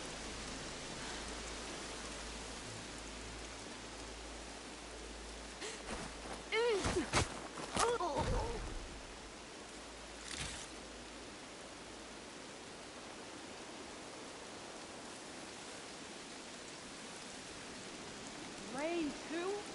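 Steady rainfall in Horizon Forbidden West, a constant hiss of drops on the ground, with a few louder bursts of game sounds and a voice speaking partway through.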